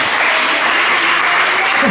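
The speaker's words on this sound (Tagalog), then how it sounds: "Ito pinapalakpakan natin ang ating Panginoon." A church congregation applauds in a dense, steady burst of clapping that fills the space loudly and evenly, with no single clap standing out.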